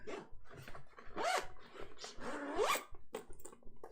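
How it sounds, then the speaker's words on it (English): Zipper pulled closed along a Samsonite Classic Business PFT laptop backpack, several quick rasping zips in a row, close up and fairly loud, with no voices. "then you could zip the bad boy up"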